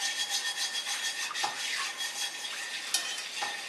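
A plastic or silicone whisk stirs a mixture in a non-stick pan, a steady soft scraping and swishing with a few sharper taps, alone and moderately quiet.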